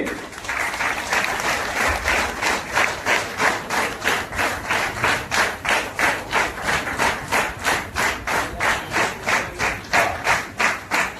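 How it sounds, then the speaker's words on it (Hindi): Congregation applause for the treasurer at a church opening, dense clapping that settles into loud, rhythmic unison claps at a steady beat. "उनको ताली बजाएंगे"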